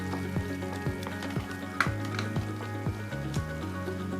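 Chopped onions sautéing in a pan for North Indian chole, a continuous close sizzle with occasional crackles and pops over a steady background hum.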